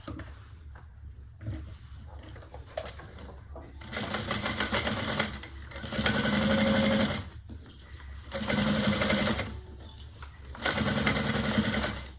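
A sewing machine stitches a handbag in three loud, sustained bursts separated by short pauses, with quieter handling sounds before the first run.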